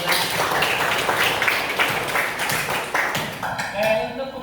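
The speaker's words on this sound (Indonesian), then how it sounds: "boleh tepuk tangan lagi untuk 11" A chemistry class claps hands together in a classroom, a dense, moderately loud patter of many hands that thins out toward the end as a voice begins speaking.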